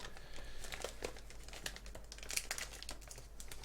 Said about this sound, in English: Unwrap myself a drink here, guys.